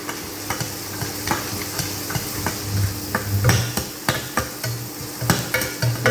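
Onions sautéed in a pan for a vegetarian egg masala, with a soft sizzle under repeated sharp clicks and scrapes of a spoon stirring against the pan.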